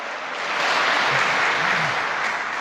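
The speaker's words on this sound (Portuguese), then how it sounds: "Pode sentar, uma salva de palmas aqui." A church congregation applauding together, a dense, steady wash of clapping that holds for a couple of seconds, fairly loud and close, with a few faint voices mixed in.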